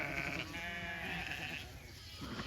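During spring lambing season, sheep on pasture give faint, drawn-out bleats with a wavering tone, overlapping one another under a steady hum of background noise.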